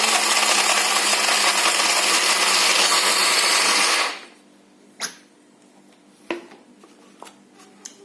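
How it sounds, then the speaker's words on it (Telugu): A kitchen mixer grinder roars loudly while grinding small coconut pieces, then cuts off abruptly, leaving a quiet room with a few scattered clicks and knocks. "కొబ్బరి ముక్కలు చిన్న చిన్నవి చేసుకొని మిక్సీ వేసుకోండి"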